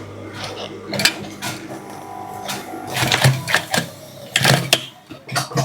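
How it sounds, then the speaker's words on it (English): A sewing machine runs in short stitching bursts while mule shoes are sewn, its rapid mechanical clatter starting and stopping up close with small handling noises between runs. "So I'm gonna switch on my machine. I'll be stitching right now."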